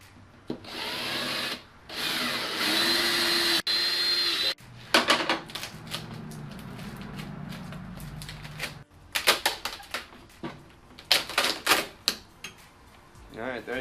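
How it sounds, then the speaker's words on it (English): A power drill bores alignment holes through a carbon fiber fender flare in a workshop, sounding in several loud whirring bursts of a few seconds each, separated by pauses and short scraping and handling noises. "first thing I'm going to do is drill probably about 3, I guess I'll call them like alignment holes or something"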